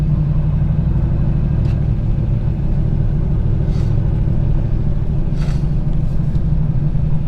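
Inside a manual car pulling away in first gear, a steady low engine rumble fills the cabin, with a few faint clicks and rustles.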